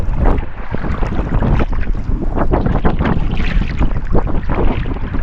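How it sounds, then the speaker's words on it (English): Strong wind buffeting the microphone out on Lake Superior during a kayak crossing, loud gusty roaring and rumbling with splashing water, continuous throughout with no speech. "The wind has picked up higher than the forecast expected."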